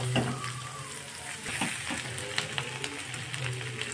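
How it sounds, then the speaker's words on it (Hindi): Soy chunks and onion frying in a pan, a steady close sizzle with occasional stirring scrapes and soft clicks, with faint speech in the background. "अब इसे हम प्याज के साथ फ्राई होने देते हैं थोड़ी देर, प्याज भी हमारी भून जाएगी और बड़ी भी फ्राई हो जाएगी।"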